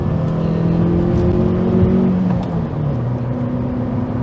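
A 2008 Toyota Solara coupe's small engine with manual transmission, floored on an uphill pull, drones at high, steady revs under heavy load, a continuous strained hum close by with no talking.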